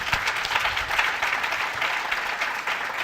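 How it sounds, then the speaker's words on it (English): A conference audience at a public health session on public-private partnerships gives a final round of applause: continuous, even clapping from a sizable crowd, moderately loud and sustained throughout with no speech over it. "can I please have a final round of applause for this wonderful work?"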